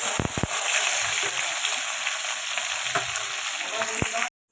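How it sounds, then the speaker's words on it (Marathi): Green chillies, curry leaves and mustard seeds fry in hot oil with a dense, steady crackling sizzle and a few sharp pops, then cut off abruptly. "मिरची कढीपत्ता राई चांगले फ्राय झालेलं तेलामध्ये"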